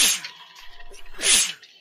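A human sneeze, a sharp breathy burst at the start and another hissing one just over a second later, close and fairly loud with no talk.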